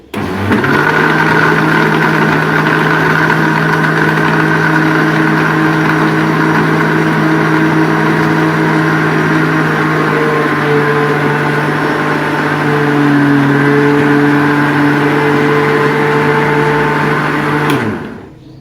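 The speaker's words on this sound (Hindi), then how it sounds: "इसको अच्छी तरह से आइस क्यूब के साथ हम ब्लेंड कर लेंगे" A kitchen blender whirs peach milkshake with ice cubes, running loud and steady for about seventeen seconds, its pitch shifting slightly midway before it winds down and stops.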